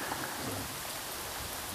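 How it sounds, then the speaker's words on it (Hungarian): Heavy rain from a storm over a river hisses steadily in a dense, even wash of sound, loud and continuous with no voices. "elkapott minket egy kisebb vihar itt a folyón"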